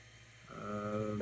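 A Sonic Pad-controlled 3D printer's blower fan switches on during its self-test, a steady whirring hum with tonal harmonics rising in after about half a second and holding close and moderately loud.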